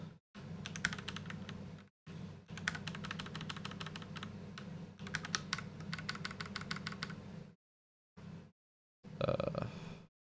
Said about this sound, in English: instead of me just typing out these notes